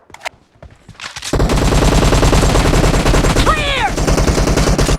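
PUBG Mobile gunfire starts with a few scattered shots, then turns into loud, continuous automatic fire. A brief whooshing effect cuts through the burst.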